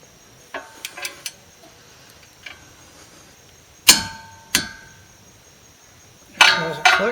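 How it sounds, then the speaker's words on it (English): A torque wrench tightening a Mustang tie rod castle nut on the steering knuckle, several sharp metallic clicks and clanks spaced irregularly, with a strong cluster of clicks near the end, close and clear in a quiet garage. "That's your torque wrench."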